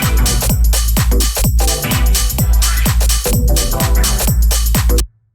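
A sharp, tight hi-hat ticks through a funky deep house loop, layered over a pounding four-on-the-floor kick and thick bass that play continuously for about five seconds and then stop suddenly.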